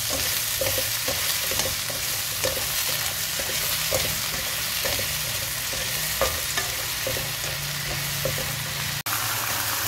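Steady sizzle of tofu being stir-fried in a pan for a vegetarian dish, with repeated scraping stirs clicking against the pan at a loose rhythm, close and continuous, ending on a sharp knock.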